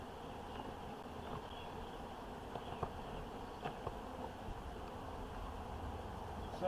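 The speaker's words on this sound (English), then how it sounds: "Look how gentle these bees are" Honey bees buzz around an open hive, making a steady, faint, dense hum with small rises and dips as individual bees pass close by.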